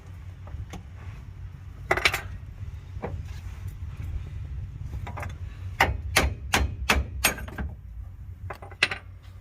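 A mallet strikes a universal joint during a repair, with sharp metallic knocks, a few isolated blows followed by a quick run of about six rapid hits, then one or two more, all close, over a low background hum.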